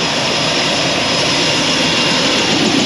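A helicopter engine on a hay farm and ranch gives off a steady, loud turbine roar with whining overtones, close by and constant, with no talk over it.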